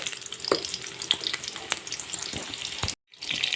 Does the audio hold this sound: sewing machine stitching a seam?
no